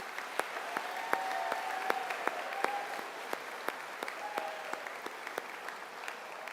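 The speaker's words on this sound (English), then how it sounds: "We give a nice round of applause for the class of 2023" A graduation ceremony audience gives the class of 2023 a round of applause, a moderately dense patter of clapping with sharp individual claps and a few faint whistles or cheers.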